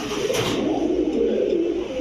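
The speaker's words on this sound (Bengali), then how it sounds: "খুবই সুন্দর একটা কবুতর ডিপ কালারের" A deep-coloured pigeon offered for sale coos softly and continuously nearby, a low rolling murmur with no talk over it.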